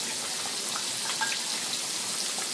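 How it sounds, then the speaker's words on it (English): Onions frying in hot oil in a skillet for smothered pork chops, giving a steady, even sizzle with fine crackling pops throughout, no talking. "I'm going to wait till the oil heats up into the skillet. And I will add my onions to it."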